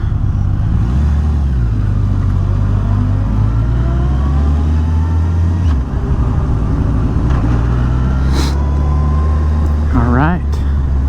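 A 2007 Yamaha FJR1300 motorcycle being ridden, its engine a loud steady drone with shifting pitch, mixed with wind noise; a rising rev sweep comes near the end.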